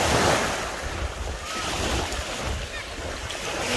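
Sea waves wash in at Sousse beach in Tunisia, a close, continuous roar of surf mixed with rumbling wind buffeting the microphone.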